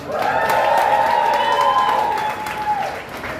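A comedy club audience bursts into loud, sustained applause with cheers and whoops rising above the clapping, fading slightly toward the end.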